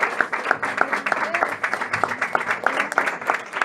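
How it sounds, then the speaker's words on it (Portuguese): A church congregation claps during a service, with steady rhythmic hand clapping that fills the room and a voice speaking over it. "Os irmãos aplaudam o Senhor"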